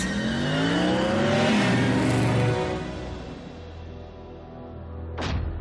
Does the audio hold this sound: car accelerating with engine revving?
yes